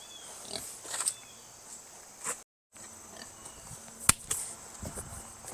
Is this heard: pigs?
yes